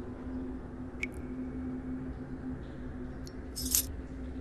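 Keys are picked up in the indie horror game Abandoned Souls, set in a haunted hospital: a short metallic jingle and clink rings out near the end over a steady low ambient hum, with a fainter click earlier.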